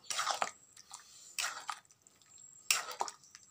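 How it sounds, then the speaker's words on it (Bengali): Masoor dal with bottle gourd bubbles in a pot, giving soft, wet pops and squishy bursts that come in irregular clusters, close and fairly quiet, with no voices. "এর সাথে আমরা এবার আমাদের সিদ্ধ করে রাখা লাউটাও দিয়ে দিলাম, দিয়ে ভালো করে ফুটুক একটু"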